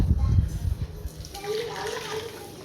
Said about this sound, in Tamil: ஒரு பவுல் வந்து கீழே வச்சுட்டு அதுக்கு மேலே ஒரு அரிப்பு வச்சுட்டு வடிகட்டி எடுத்துப்போம்